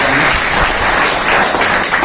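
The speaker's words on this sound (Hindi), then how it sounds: "एक बार चाहूंगा सभी जोरदार तालियां।" Loud, dense audience applause at a Hindi-language gathering, a steady wash of many hands clapping together without a break.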